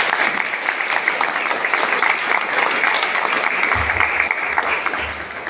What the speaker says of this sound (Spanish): Démosle un aplauso, chicos.